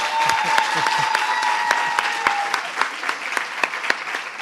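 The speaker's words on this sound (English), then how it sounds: "Let's give them a warm of applause again." Audience applause at a medical school declaration ceremony, a burst of clapping that starts full and thins toward individual claps, fairly close and loud, with a voice briefly over it.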